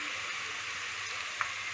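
Potato frying in hot oil, a steady, even sizzle that runs throughout with one small pop near the end.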